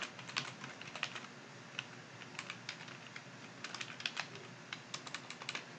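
Typing on a computer keyboard, a close, quiet run of quick irregular key clicks in small bursts against faint room hiss, with no talking.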